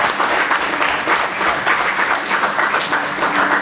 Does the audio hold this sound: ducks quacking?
no